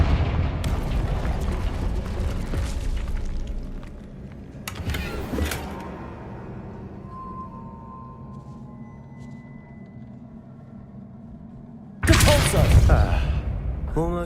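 A blasting spell in Hogwarts Legacy detonates with a heavy booming burst that rumbles and fades, followed by quieter game ambience and a second loud crashing impact near the end, with a character's voice heard in places.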